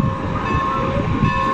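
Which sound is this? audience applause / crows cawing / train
train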